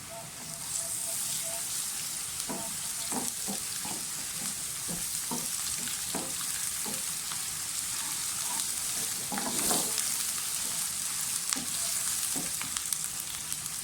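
Onions sizzle steadily in hot oil, frying toward golden brown for lobia masala, a constant frying hiss broken by occasional scrapes and stirs, close and continuous with no talk.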